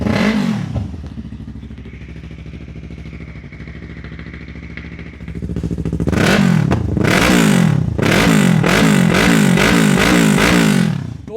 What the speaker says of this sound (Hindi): यामा की R3 की भी आप आवाज़ सुनो